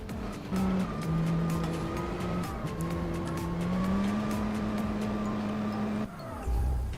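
Race cars lapping in Gran Turismo 4 (Spec II mod), a steady loud engine drone with shifting pitch throughout and tire squeal, briefly cut near the end.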